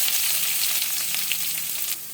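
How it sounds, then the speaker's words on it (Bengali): Chopped onions with salt sizzle steadily in hot oil after cumin and dried chilli, a close, continuous crackling hiss with no talking. "পেঁয়াজটা লবণ দিয়ে ভাজছি"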